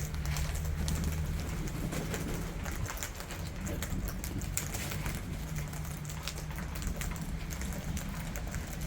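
Wet wild pigeons gather in the rain, their soft cooing blending with a steady patter of raindrops on surfaces, with low continuous noise throughout and no talking.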